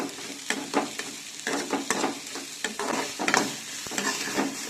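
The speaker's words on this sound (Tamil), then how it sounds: "நான் லைட்டாக வதக்கிக்கிறேன் நெய் போட்டு." Vegetables including beans sautéing in ghee in a pan, a soft steady sizzle broken by repeated scraping, stirring strokes in an irregular rhythm, close and moderately quiet with no talking.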